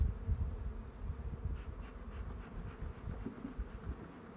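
Honey bees swarm around a beehive opened in early spring, making a dense, steady buzz with many overlapping wingbeats, close and moderately loud, with low handling bumps beneath.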